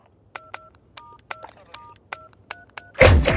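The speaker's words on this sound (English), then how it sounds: "Bomb planted. Countdown started." In a Search and Destroy match of a shooter video game, a bomb is planted with a steady series of about ten short electronic beeps, then a loud, sudden burst of game sound.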